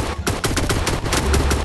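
Rapid, dense gunfire from a gun in an online action video game, a quick burst of evenly spaced shots that stays loud and close throughout.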